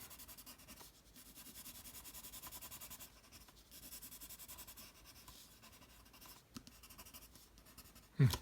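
A pen draws tree foliage on paper with quick diagonal strokes, giving soft repeated scratching and rubbing bursts in a steady rhythm, close and fairly quiet, ending with a brief louder knock.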